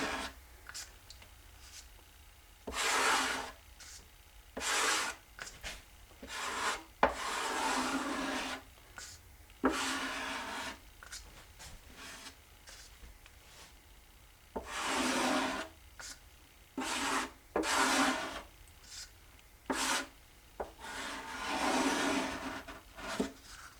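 A squeegee scrapes excess Timbermate pore filler off guitar wood in repeated diagonal strokes, each a close, broad rasping swipe of a second or two separated by short pauses.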